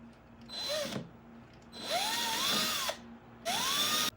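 A power drill drives screws in to mount a magnetic wall light, making three separate whirring bursts that rise in pitch as each screw tightens. The sound is close and clear, with no talking.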